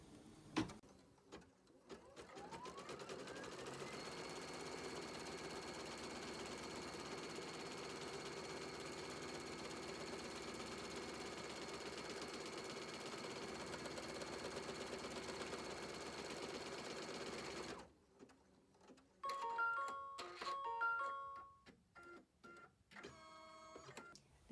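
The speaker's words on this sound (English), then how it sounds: "lower the presser foot, press go, and we'll stitch that narrow zigzag" A sewing machine stitches a narrow zigzag with the presser foot lowered, running as a steady, loud mechanical whir for about fifteen seconds before stopping, followed by a few scattered clicks and handling noises.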